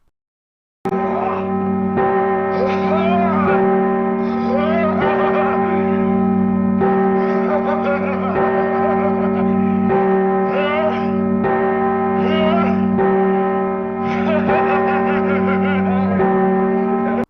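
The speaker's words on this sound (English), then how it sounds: "Church bells must really trigger the shite out of them." Church bells ring out in a sustained, reverberant peal, with loud strikes repeating steadily over a humming, resonant tone throughout.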